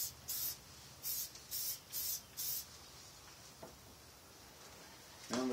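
Paint is sprayed onto an RC car body in six short hissing bursts, each under half a second, quieter between, ending with a faint knock.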